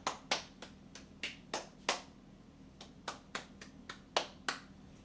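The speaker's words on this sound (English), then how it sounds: "Clapping, clapping, clapping" Roughly a dozen sharp hand claps in an uneven rhythm, fairly close and moderately loud, picked up by a FIFINE AM8 USB microphone during a test, with no voices.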